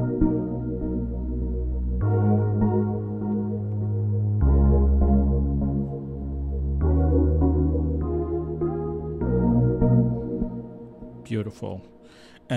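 A synth layered with a piano and a pad in Logic Pro X plays sustained chords that change every two to three seconds, with a voice cutting in near the end.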